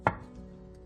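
A knife makes a single crisp chop through shiitake mushroom onto a cutting board, one short close knock and then quiet.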